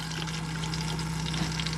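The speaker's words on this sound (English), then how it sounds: "This is your electric freshwater flush, which comes from the main freshwater tank." An electric freshwater toilet flush in an Auto Trail Expedition motorhome runs with a steady pump hum under a close rush and trickle of water, continuous and fairly quiet.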